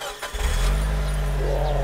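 A Mitsubishi Lancer Evolution IV engine fires up and settles into a loud, steady, deep rumble close by, with no talking over it.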